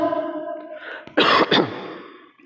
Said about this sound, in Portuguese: Vai ficar bonita a gravação, um monte de tosse.